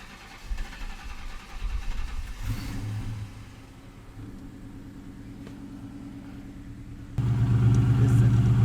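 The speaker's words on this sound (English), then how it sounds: "Let's give it a cold start." A Ford Mustang 5.0 V8 engine cold-starts, cranking and catching, rumbling unevenly, then settles into a steady idle before surging louder near the end; close and alone.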